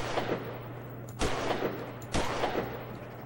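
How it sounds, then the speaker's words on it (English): Video game gunfire: a few sharp shots in quick succession, then two louder bursts roughly a second apart over a steady low hum. "I think the sound of gunfire, it, it might not bring them directly my way"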